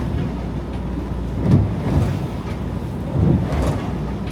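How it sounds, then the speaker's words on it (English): Wind blowing hard across open sea aboard a small boat heading into a 10 to 15 knot breeze, a steady low roar with gusts swelling and easing, loud and close. "The wind's up to 10 to 15 I reckon now, so it's getting a bit gnarly heading into it"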